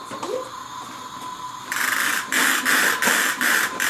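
A vacuum cleaner runs close by, first a steady whine and then a louder, rhythmically pulsing whir.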